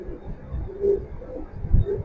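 Racing pigeons cooing softly at close range, low throaty murmurs repeating in short bursts over faint background noise.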